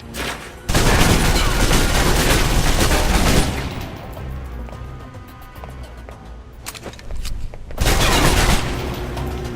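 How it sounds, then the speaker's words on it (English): Bursts of submachine gun fire from the video game Alpha Protocol, a loud rapid rattle in two long volleys separated by a quieter lull with scattered echoes. "If you're trapped in close quarters with multiple opponents, the SMGs can help clear the room quickly."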